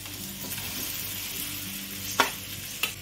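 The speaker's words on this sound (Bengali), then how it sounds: "মশলাটা ভালো করে কষিয়ে নিয়ে ভেজে রাখা আলু ও পটল গুলো দিয়ে দেব।" Potatoes and pointed gourd stir-fry with spices in a pan, giving a steady, close sizzle and two sharp spatula scrapes or clinks near the end.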